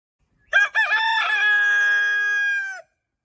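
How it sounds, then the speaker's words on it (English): A rooster crows once, loud and close, with a choppy start rising into a long sustained note that ends abruptly against silence. "When Scheherazade heard the rooster crow"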